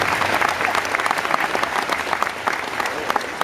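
A bodybuilding expo audience applauding, a dense steady burst of clapping from a crowd, fairly loud and sustained for the whole few seconds.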